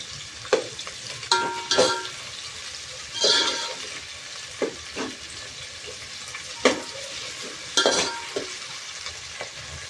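Sliced onions frying over a high gas flame, a soft sizzle broken by repeated scraping stirs at irregular intervals, close by.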